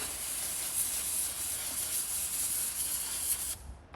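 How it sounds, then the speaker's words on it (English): A steady, hissing aerosol spray of electrical cleaner from a can runs continuously for several seconds, close and even, then cuts off abruptly. "spray some cleaner on this."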